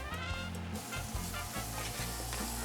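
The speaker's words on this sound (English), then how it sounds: "You want to hear that sizzle as soon as they're going on." Steaks hit a hot oiled pan for fajitas, giving a steady close crackling sizzle with small pops and spits throughout, a brief clatter near the start and no talking.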